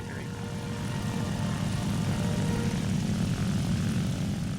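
Focke-Wulf FW-190A5 fighter in War Thunder, a steady, loud piston-propeller engine drone that holds its even throbbing hum throughout.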